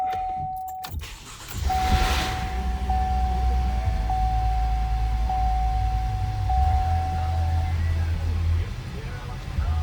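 A car with a 2.5L engine is started after a diagnostic code reset, with a brief crank and then a steady low idle running throughout, close by, along with a faint tone from a warning chime, and no one speaking.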